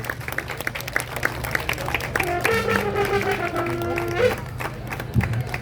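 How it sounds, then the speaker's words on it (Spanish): Audience applause at a book presentation at a book fair: a steady wash of clapping that holds for several seconds, with a tonal hum or voices running through the middle and a brief louder burst near the end. "Agradecemos bien, muy profundamente, un gran afafán y un aplauso grande."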